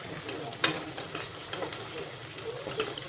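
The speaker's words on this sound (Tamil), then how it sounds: "அடியில கிண்டுறியே" Mutton biryani masala being stirred at the bottom of a pot, a steady sizzle with scraping spoon strokes and occasional sharper knocks, close by.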